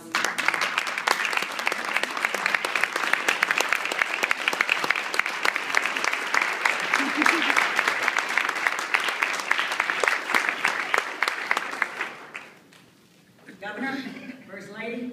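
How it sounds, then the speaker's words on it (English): An audience at an honorees' celebration gives a standing round of applause, dense sustained clapping that holds steady for about twelve seconds, then fades out as a voice begins speaking. "Why don't we all stand up and give the women who are members of this collaborative a big round of applause"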